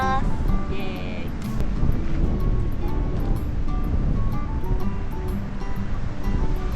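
Surf rolls and washes along a beach where surfers ride the waves, a continuous near wash of breaking water with wind, while people talk over it throughout.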